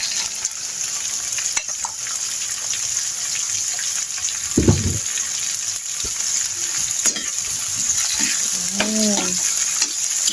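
Chili dropped into hot oil for homemade chili oil, giving a steady close sizzle and crackle with occasional stirring clinks and brief spatters, no talking.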